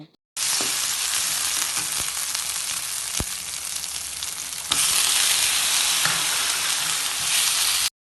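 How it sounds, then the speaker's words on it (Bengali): Chicken pieces hit a hot pan of fried onion, ginger and garlic, giving a strong, continuous sizzle that grows louder partway through, with nobody speaking. "আদা রসুন আমি ভালো করে বেজে নিয়েছি এবার আমি এর মধ্যে দিয়ে দিব চিকেনগুলো"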